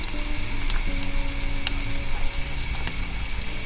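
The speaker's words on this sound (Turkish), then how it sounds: "Salçayı biraz kavuracağız." Red pepper paste frying with sautéed onions in a pan gives a steady, close, continuous sizzle and crackle throughout, with no talking.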